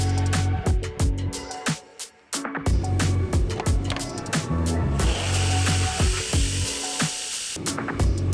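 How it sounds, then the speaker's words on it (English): A grinder works the bevels of a champagne saber blade, making loud abrasive grinding with a sustained stretch of rough hiss. Clattering knocks and metallic clicks come from the workshop throughout. "I'm going to go to the grinder first. I'm going to grind the bevels and finish out the fuller"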